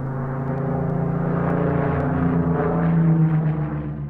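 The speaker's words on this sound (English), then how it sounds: "Supermarine Spitfire K9942, number one in the Institution of Mechanical Engineers top five aircraft at the RAF Museum Cosford" Steady droning engine of a Supermarine Spitfire aircraft at RAF Museum Cosford, a loud continuous tonal hum that swells slightly toward the end, with no talking over it.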